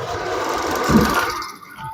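A vintage sewing machine winds a bobbin with a steady close mechanical whir that swells briefly, then slows and fades toward the end.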